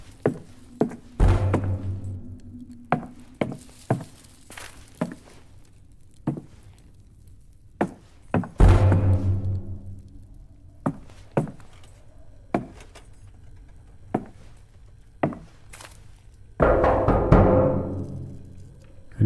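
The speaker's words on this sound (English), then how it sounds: "Don't like all this knocking." Irregular heavy knocks sound in the video game Ad Infinitum, set on a war front, as a series of sharp thuds spaced every second or two, some louder and booming, with a longer rumbling burst near the end.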